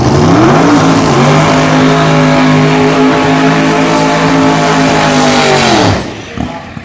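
A 540 cubic inch twin-turbo, alcohol-fuelled drag race car at the Tri-Five Nationals, roaring loud and close with a rising, sustained engine howl before cutting off abruptly near the end.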